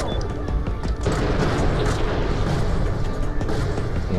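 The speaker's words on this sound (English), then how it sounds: "You throwing a grenade at me" Loud, dense battle din from Borderlands: The Pre-Sequel, with booming blasts and gunfire fused into a continuous roar where a grenade explosion sits among the shooting for the whole stretch.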